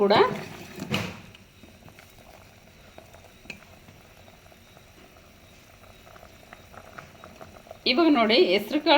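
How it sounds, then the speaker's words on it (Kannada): A pot of okra curry with cooked green gram bubbles at a soft, steady boil, while a voice talks briefly at the start and again near the end. "ಚೆನ್ನಾಗಿ ಕುದೀತಾ ಇದೆ."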